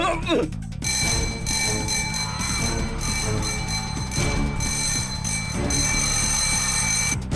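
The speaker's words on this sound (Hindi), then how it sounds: "तुम्हें घंटी सुनाई दी क्या? स्कूल छूट गया क्या?" A school bell rings continuously with a bright metallic tone, loud and sustained for several seconds under a busy background.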